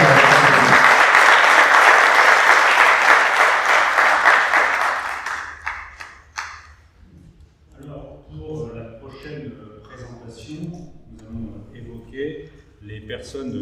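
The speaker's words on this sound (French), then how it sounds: "s'il vous plaît, on peut applaudir Annick" A hall audience at a French academic event breaks into dense, loud applause that carries for several seconds, then tapers off with a few last claps as a speaker begins talking.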